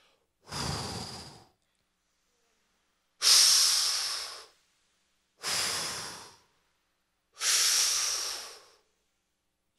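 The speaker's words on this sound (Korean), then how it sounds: "이게 지금 뭐예요? 숨 쉬는 거죠?" A person at a church conference breathes out forcefully four times, each exhale a loud, breathy whoosh lasting about a second, separated by short silences; no talk.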